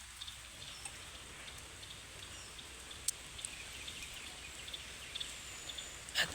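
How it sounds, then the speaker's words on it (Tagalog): Rain falls steadily as a soft, even hiss of drops close by, with scattered small ticks of drops hitting a surface and no voices. "Lakas ng ulan, no?"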